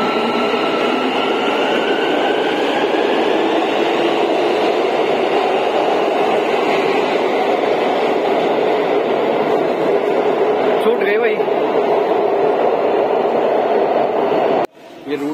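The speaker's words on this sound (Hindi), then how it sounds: "और मेट्रो आ चुकी है भाई।" An underground metro train in Almaty arrives at the station with a steady, loud rumble and hiss that cuts off abruptly near the end.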